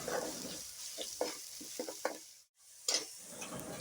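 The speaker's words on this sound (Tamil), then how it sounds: "இஞ்சி பூண்டு பச்சை வாடை போகிற அளவுக்கு நல்லா வேகட்டும். நல்லா கிண்டி விடலாம்." Ground ginger and garlic frying in a pan for a fish curry, with a crackling sizzle and repeated scraping stirs up close, broken by a brief pause near the end.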